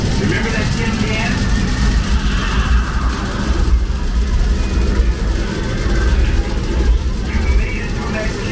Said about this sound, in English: Your main engines are throttling back to the maximum gravitational force